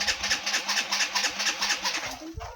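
A Yamaha BWS scooter with its muffler just refitted and an empty fuel tank cranks over without catching, making a steady, rapid run of rhythmic pulses that cuts off near the end.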